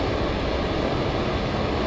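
A dense, steady roar from a jet aircraft engine running with afterburners in a flight video game, loud and continuous with no other sounds over it.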